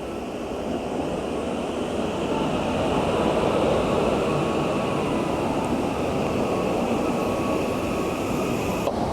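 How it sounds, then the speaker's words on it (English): Akita bullet train Komachi passing at speed along shinkansen tracks, a steady loud rushing roar with dense rumble that holds for the full stretch without talk. "Here it is. The Akita bullet train,"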